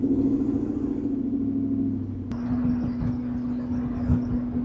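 A big rig truck engine runs steadily with a low, continuous rumble and a constant mid-pitched drone, close and fairly loud, with a sharp click partway through and no talk.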